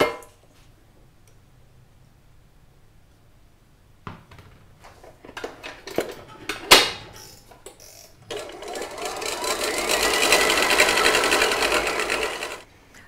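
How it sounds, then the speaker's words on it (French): An electric whisk whipping liquid cream: scattered clicks and knocks at first, then a steady, loud motorized buzz that runs for several seconds before cutting off. "je vais maintenant pouvoir fouetter la crème liquide"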